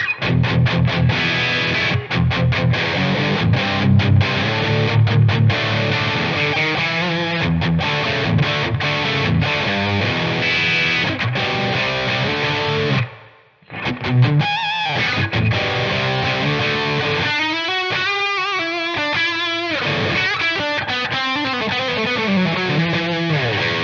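Electric guitar played through two stacked Harley Benton overdrive pedals, a loud, heavily distorted tone with chords and riffs that stop briefly and then resume, and no talking.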